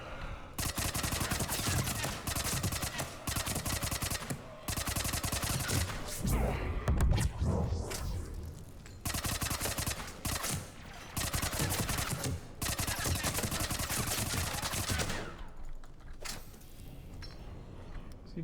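Sustained bursts of automatic gunfire and explosive shots in Mass Effect 3 come in long dense volleys broken by brief pauses, loud and close, with voices faintly mixed among the combat.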